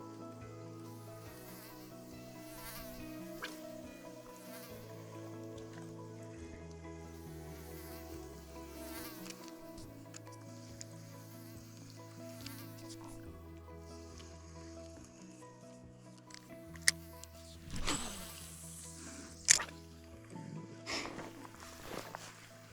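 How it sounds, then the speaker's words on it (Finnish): A mosquito buzzes around at a camp, a thin whine that wavers and drifts near and far over a long stretch, with a few louder close passes toward the end. "Jonkun verran joutuu tästä hyttystä huitamaan pois."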